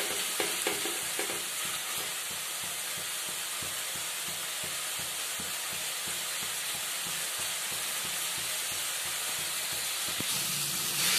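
Spice paste fries and is stirred in a pan while cooking a doi almond chicken dish, giving a steady close sizzle with a continuous run of scraping stir strokes throughout.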